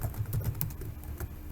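Rapid keystrokes clatter on a computer keyboard while code is typed during a Java programming lesson, with close, steady, uneven clicks and no talking.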